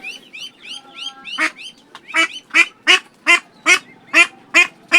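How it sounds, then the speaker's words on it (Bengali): A Chiping duck, a new breed crossing Chinese and common ducks, quacks with a voice like a female common duck: a close, loud run of rhythmic nasal quacks that starts softly and grows louder and more regular. "ওর সাউন্ডটা কিন্তু ফুললি পাতি হাঁসের।"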